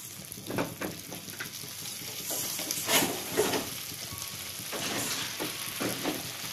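Crab pepper masala sizzles in a hot pan while being stirred, with steady frying hiss and repeated scraping strokes throughout, close and fairly loud, no voices.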